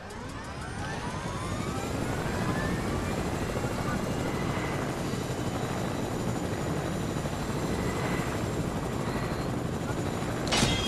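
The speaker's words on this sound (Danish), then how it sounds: "Jeg flyver i helikopteren" A helicopter flying in Fortnite, a continuous loud rotor and engine roar that holds steady throughout and ends with a brief sharp burst.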